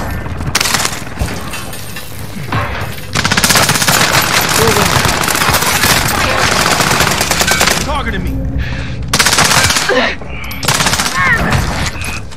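Automatic gunfire rattles in bursts through a Call of Duty Warzone match, long loud volleys broken by short pauses, with shattering impacts and faint voices mixed in.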